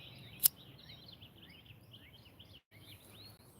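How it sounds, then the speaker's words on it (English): Small birds chirp outdoors in quick, scattered high tweets at a moderate distance over a low background hum, with one sharp click near the start. "The birds is chirping."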